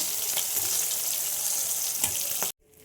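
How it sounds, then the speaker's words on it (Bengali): Loud, bright sizzling of cumin seeds frying in hot oil, steady with a few crackling pops, then cutting off abruptly. "জিরে ফোড়ন দিয়ে দিলাম।"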